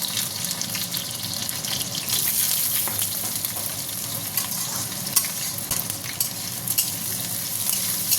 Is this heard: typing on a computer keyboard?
no